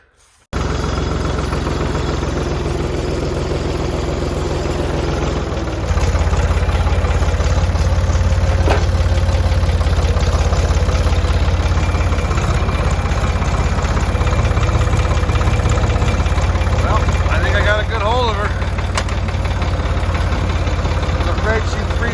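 A tractor's diesel engine starts and idles loudly nearby, a steady low rumbling chug that grows heavier partway through, with someone talking over it.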